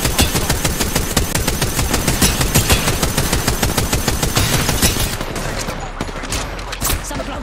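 Rapid automatic gunfire from an Apex Legends Season 9 match, a dense, loud stream of shots for about five seconds, then a few scattered single shots over lingering game noise.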